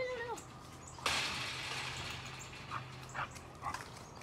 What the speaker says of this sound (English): Who's a good dog?